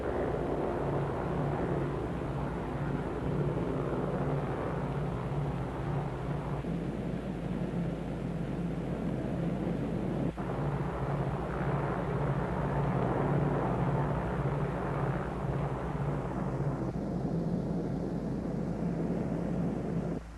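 Dave's Dream, the bomber headed for the Bikini target, drones steadily with its escort of photographic, weather and instrument planes, a continuous, even engine roar that holds without a break.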